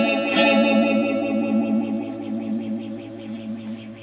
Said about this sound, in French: on entend très très bien la modulation en question.